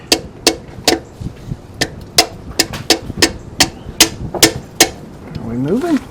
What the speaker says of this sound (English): A little tap with the hammer.